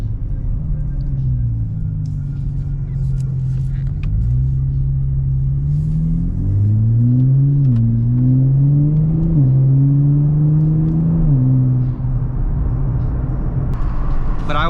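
A Nissan Z with an aftermarket exhaust cruises downtown at night, its engine giving a loud, continuous low drone that climbs in pitch through a couple of gear pulls before easing back, heard from inside the car.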